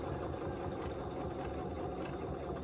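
A sewing machine stitches steadily while quilting along an acrylic ruler, the motor whirring in a dense, continuous rhythm throughout, close and fairly loud with no voices.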